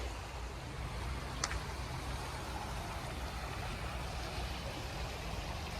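Creek water in Pennsylvania flowing in a steady broadband wash, a continuous moderate rush close by with no voices.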